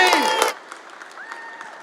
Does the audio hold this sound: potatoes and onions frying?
no